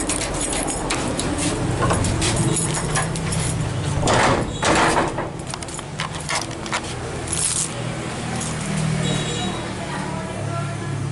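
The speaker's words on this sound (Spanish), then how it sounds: "Llave asegurando y desasegurando de manera correcta." A key turns back and forth in the lock of a metal door, giving metallic clicks and jangling over steady background noise and some faint voices.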